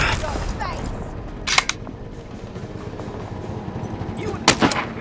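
In Saints & Sinners: Retribution, two sharp gunshots crack out about three seconds apart, each short and loud, over a low background murmur with voices faintly present.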